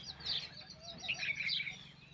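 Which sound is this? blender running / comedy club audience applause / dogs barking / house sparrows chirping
house sparrows chirping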